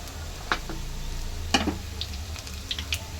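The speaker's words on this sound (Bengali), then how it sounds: "এরকম লাল লাল করে প্রত্যেকটা এপিটুপিট করে ভালোভাবে ভেজে নিতে হবে" Stuffed spiny gourd (kakrol) filled with sesame and coconut frying in oil, a soft continuous sizzle with a few sharp pops and scrapes of stirring scattered through, over a low background hum.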